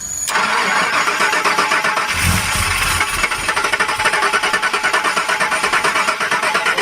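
A neglected Ford Foxbody Mustang GT convertible with a flooded engine cranks with a rapid starter whir, catches with a loud burst, then runs roughly at a close, pulsing idle.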